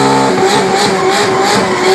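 A Toyota Corolla fitted with a 2JZ straight-six races down a drag strip, its engine a loud, sustained roar with a high harmonic whine and some tire squeal, close and alone.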